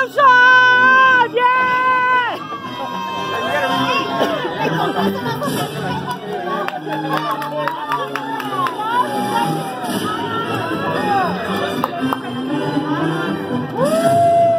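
Graduation ceremony crowd cheering and chattering loudly, with excited voices, shouts and scattered clapping layered over music-like tones, continuous and lively throughout.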